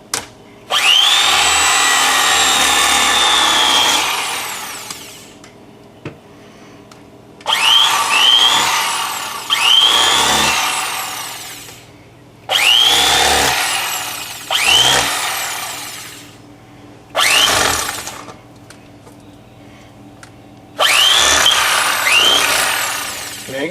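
An electric fillet knife, the Mr. Twister Electric Fisherman, cutting through fish in loud buzzing bursts of several seconds each, separated by short pauses, with no talking.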